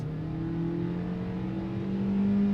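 A Hyundai Exter in manual mode pulls away under throttle, its engine drone rising steadily in pitch and growing slightly louder over a few seconds, heard from inside the car without talking.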